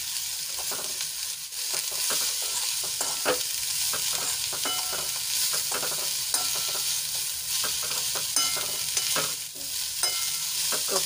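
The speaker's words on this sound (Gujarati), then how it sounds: "કોબીજને આપણે એક મિનિટ માટે સાંતળી લઈશું." About 150 grams of sliced cabbage sautés in a hot pan with a continuous, close sizzle, broken by the repeated scrape and clatter of stirring, with no talking.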